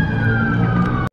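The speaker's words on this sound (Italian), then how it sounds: "Oddio, i pompieri." A fire engine siren passes, a loud, steady wailing tone that fills the moment and then cuts off abruptly.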